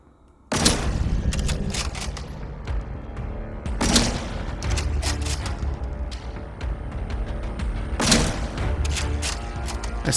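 Rapid gunfire in the Atomfall video game, with sharp, loud shot bursts cracking in clusters and repeated volleys over a rumbling backdrop, no talk.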